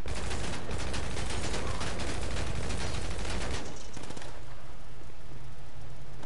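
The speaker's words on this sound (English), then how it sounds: "Why was there gunshots?" Dense bursts of rapid gunfire crackle for several seconds in GTA 5, then cut off, leaving a quieter engine-like hum with faint scattered shots.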